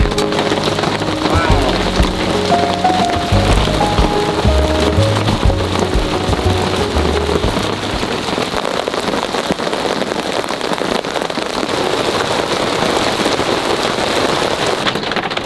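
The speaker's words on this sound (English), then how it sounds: "The amount of rain, the hail" Heavy rain pounds a surface in a dense, continuous roar on a homestead in Portugal, mixed with hard rattling hits of hail, loud and close, with low muffled tones early on.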